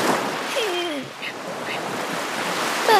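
Cartoon sea waves wash up a beach as the tide rises, a rushing surf swell under wind, with brief voices and squeaky cartoon sounds mixed in.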